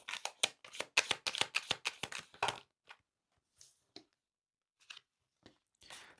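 Tarot cards shuffled by hand in a rapid close riffle of crisp flicks for a couple of seconds, followed by sparse single card snaps and slides.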